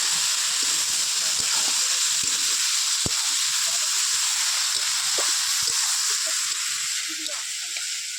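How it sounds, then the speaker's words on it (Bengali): Ridge gourd fries in a pan with a loud, continuous hissing sizzle while it is stirred with salt and turmeric, with a few sharp scrape and tap sounds. "এবারে আমি স্বাদ মতো লবণ, স্বাদ মতন হলুদ দিয়ে ভালো করে নাড়াচাড়া করে নেব।"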